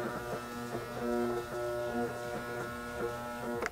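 A shaved ice machine loaded with frozen protein drink starts up but fails to turn, giving a steady close electric motor buzz with a pulsing hum.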